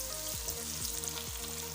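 Pieces of fish fry in hot oil, a steady close sizzle running throughout under a repeating low tonal hum, with no speech.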